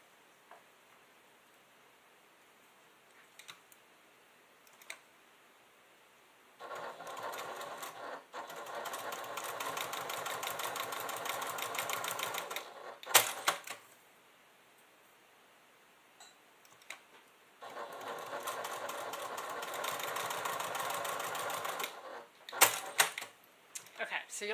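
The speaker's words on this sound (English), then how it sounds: "And then we'll top stitch on both sides." Sewing machine top stitching a D-ring tab for a clutch bag in two steady runs of several seconds each, separated by quiet pauses with a few clicks and handling noises.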